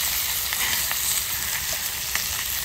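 Eggs and bacon sizzle steadily in a pan at a chilly morning campsite, a continuous close frying hiss with small pops scattered throughout and no voices.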